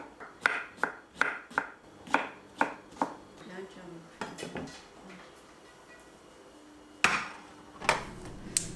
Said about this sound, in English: Just finely chopping after the onions.